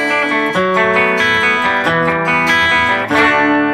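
Clean electric guitar chords ring out loud and bright through a Kemper Profiler with a clean boost, strummed in a steady rhythm with sustained, shimmering notes and a fresh attack near the end.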